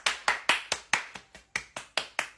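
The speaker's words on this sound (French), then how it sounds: "On applaudit un peu." Clapping from a small group, about a dozen distinct sharp claps in a steady, fairly even rhythm, close and moderately loud, with no talk over them.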